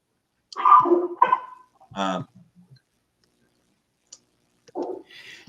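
Dogs bark and yelp in short, close bursts with quiet gaps between them, against an otherwise silent indoor background.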